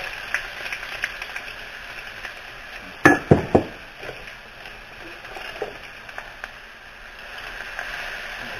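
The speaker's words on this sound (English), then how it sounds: "here's my chopped onions and chopped green chilies. Put them into the olive oil." Chopped onions and green chilies tipped into olive oil for a spicy ranchero sauce: a soft background hiss, then a burst of clattering clinks and a sharper sizzle partway through that settles back to a quiet, steady frying.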